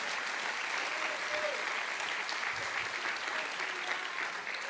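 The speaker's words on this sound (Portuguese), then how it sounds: "Você pode aplaudir, glória a Deus" Church congregation applauding steadily throughout, a dense, even patter of clapping at moderate loudness with faint voices mixed in.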